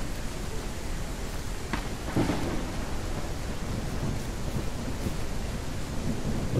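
Thunderstorm ambience in the survival video game No One Survived: a steady wash of rain noise with low thunder rumbles swelling in the background, continuous and fairly even throughout.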